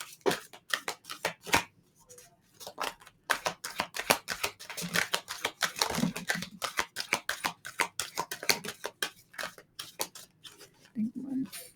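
Tarot cards are shuffled close by in quick, uneven bursts of riffling and slapping that run throughout, with a voice speaking now and then over the shuffle.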